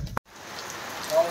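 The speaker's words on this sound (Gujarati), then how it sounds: "અત્યારે વરસાદ ચાલુ થઈ ગયો છે ફૂલ" Rain falls steadily outdoors during a night trek at Girnar, a soft continuous patter that follows a brief thump and a short moment of silence.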